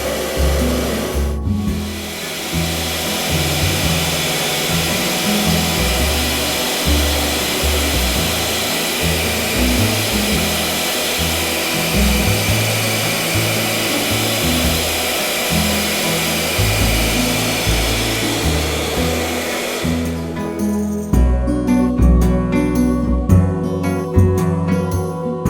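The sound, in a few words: solar-powered homemade vacuum cleaner running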